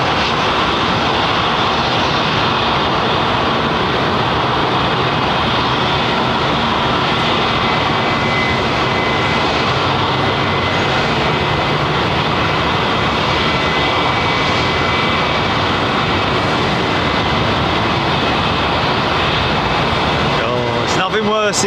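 A Boeing 777 going around at London Heathrow fills the air with a loud, sustained jet engine roar that never lets up, while people talk now and then underneath.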